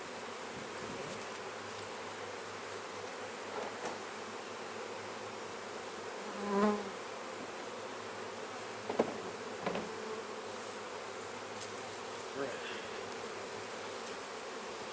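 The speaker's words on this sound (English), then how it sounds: "Still a lot of bees flying around." Honey bees buzzing steadily around an open hive during a honey harvest, a continuous close hum with occasional louder passes near the microphone and a single brief spoken word.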